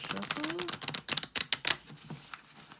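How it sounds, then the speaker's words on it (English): A deck of oracle cards is shuffled by hand, giving a quick run of close, crisp riffling taps and flicks in short bursts with brief gaps between. "give these a little shuffle"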